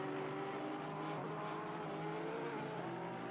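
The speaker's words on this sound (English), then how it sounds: "the Porsche, you can just hear him hammering his way through the gears there" A Porsche race car engine roars continuously at a Nürburgring endurance race, a dense steady drone heard at a distance through the gear changes, with no talk.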